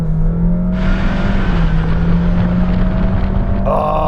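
A Honda HR-V in sport mode pulls hard under full acceleration, its engine drone rising steadily beneath steady wind and road roar heard from inside the cabin, with no one speaking.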